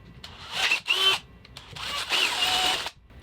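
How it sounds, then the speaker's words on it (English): A power drill whirs in two short bursts close by, its pitch rising and straining as it bites into material, with brief pauses between. "so now I'm going to have to drill a bigger hole"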